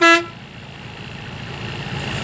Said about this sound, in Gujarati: ડેલો કોઈ ખોલતું નથી હોરન વગાડીએ છે